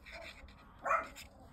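Small dogs give a short yip-like bark burst, fairly close but modest in loudness, standing out briefly from a quiet room.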